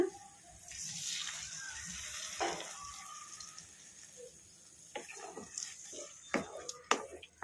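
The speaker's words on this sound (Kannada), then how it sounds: "ಈಗ ಈ ಹುಣಸೆ ಹುಳಿಯನ್ನು ಈ ಮಸಾಲಾಗೆ ಹಾಕ್ಕೊಂಬಿಡೋಣ" Soaked, squeezed tamarind water is poured into a masala for a vegetable-free curry. It makes a faint, soft splashing pour, followed by quiet clicks and knocks of kitchen utensils.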